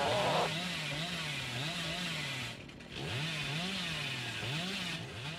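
Hillbilly's chainsaw in Dead by Daylight, a loud, close, continuous revving drone that rises and falls in pitch, briefly dipping midway before roaring on, with no talking.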